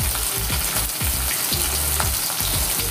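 Tomato and onion frying with salt in a pan, a steady close sizzle broken by repeated scraping stirs of the spatula at a regular rhythm, with no voices.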